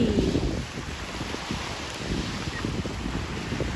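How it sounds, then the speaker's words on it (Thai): Sea waves crash on a beach with reddish-orange water, a continuous rough surf wash mixed with heavy wind buffeting on the microphone, steady and close. "คลื่นตีกัน"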